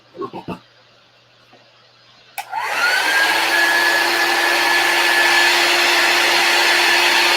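A hair dryer drying a chalk paste transfer on a pallet board sign switches on after a few soft clicks and knocks, then blows a loud, steady whoosh with a constant whine, running alone to the end.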